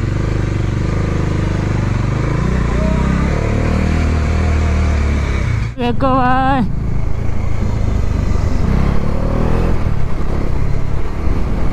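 A KTM and a Pulsar motorcycle ride along a road at night, their engines droning steadily nearby with a brief rising rev mid-way, while someone talks over the traffic noise.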